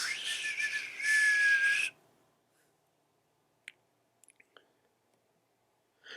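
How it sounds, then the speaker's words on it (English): A short, shrill whistle-like tone sounds for about two seconds, then cuts off into near silence broken by a few faint clicks. "that little whistle gave it feedback"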